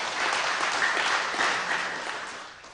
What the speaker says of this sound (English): Can we have a clap for him?